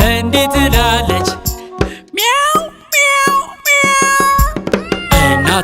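A voice imitates a cat's meow within a lively children's song, repeating the sung meows loudly over busy music and beats.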